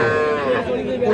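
A young bull calf of a cross breed moos at a busy cattle market. One sustained, tonal, loud and close call rises over faint background chatter.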